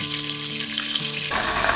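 Pork ribs pan-frying in garlic-infused oil over medium-low heat, a dense, close crackling sizzle that grows brighter and louder toward the end, with no one talking.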